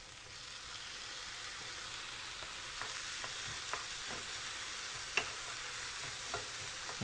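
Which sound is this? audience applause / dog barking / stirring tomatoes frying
stirring tomatoes frying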